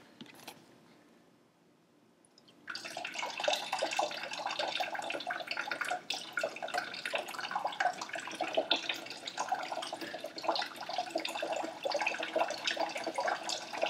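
Water streams pour continuously into metal cans on a Kelvin water dropper, a steady splashing, trickling rush that starts abruptly after a quiet opening and runs on evenly and close by.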